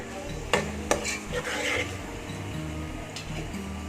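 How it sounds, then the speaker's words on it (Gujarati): Boiled pigeon peas get stirred into spices in a pan for a village-style khichdi, close scraping and rubbing strokes with a couple of sharp metal knocks on the pan rim, steady and alone without voices. "એ મિક્સ કરી દેશું એને એક મિનિટ માટે થવા દેશું મસાલા સાથે"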